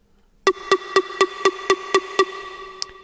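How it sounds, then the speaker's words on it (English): Synth pluck with lots of mids, bright highs and almost no bass, eight sharp evenly spaced notes repeating in a steady rhythm over a faint sustained tone, alone and moderately loud. "Here's a pluck."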